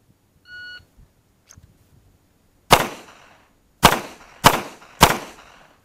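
A shot timer beeps once, then four loud, sharp handgun shots ring out at a 7-yard range, fired strong hand only, evenly spaced about half a second to a second apart.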